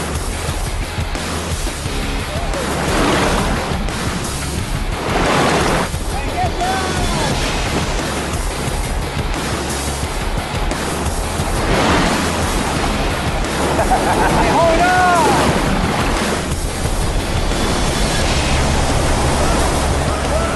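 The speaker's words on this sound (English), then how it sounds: "It's only when you're fighting the rapids that you can begin to understand how powerful a river can be." River rapids roar through a gorge, a dense, continuous rush of churning water that stays loud and steady throughout, with faint bird calls barely audible.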